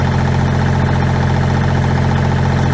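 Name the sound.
1986 Kubota L2550 tractor engine running at high idle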